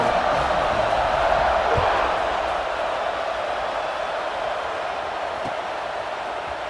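Steady crowd roar in a Georgia vs Florida State college football video game, a broad, sustained wash of stadium noise that fades very gradually.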